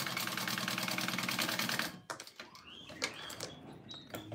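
A sewing machine runs fast and steady for about two seconds, stitching a fabric wallet with a dense, even rattle, then stops, leaving faint handling noises behind.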